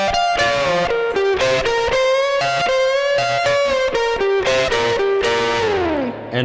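Distorted electric guitar plays a rock solo lick, a loud run of quick bent and picked notes that ends with a downward slide.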